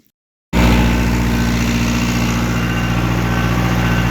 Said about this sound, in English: I'm gonna head out with this tractor and start pulling equipment out.